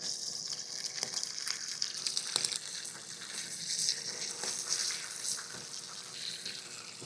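Sausages hiss and spit gently in a small pan on a camping stove during a hilltop wild camp, a soft uneven crackle with occasional sharper pops and no voices.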